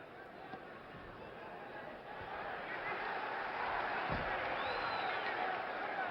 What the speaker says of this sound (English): Pires brings the crowd up with his efforts.